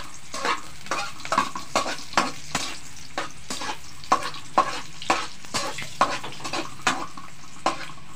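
Sardines sautéing with golden-browned garlic in a pan, sizzling steadily while a utensil stirs and scrapes in a quick, regular rhythm of clicks against the pan.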